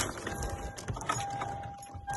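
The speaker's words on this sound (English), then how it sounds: "Dang keys." Keys jangle in a close, continuous metallic clatter around a car, with a steady tonal hum running underneath.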